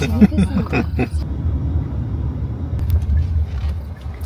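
Interior cabin rumble of a moving car, a low steady road and engine drone heard from inside, with brief voices and clatter near the start.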